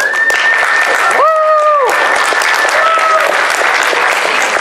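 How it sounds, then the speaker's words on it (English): Loud crowd applause at a fighting-championship event fills the whole stretch, steady and dense, with a few sharp whistles rising above the clapping. "So let's give a round of applause"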